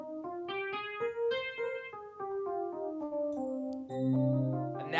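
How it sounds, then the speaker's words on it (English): A natural minor scale played note by note on a keyboard, each tone sounding cleanly in an even stepping sequence, with a fuller low chord ringing out at the end; close and unaccompanied. "A minor scale sounds like this normally."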